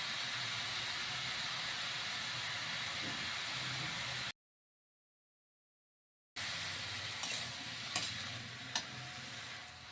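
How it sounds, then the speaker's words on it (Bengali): Tender bottle gourd cooks with milk in a pan in a Bengali home kitchen, a steady hiss and sizzle as it is stirred. The sound cuts to silence for about two seconds, then returns with a few scraping clicks. "এবারে একটু নাড়াচাড়া করে দেবো।"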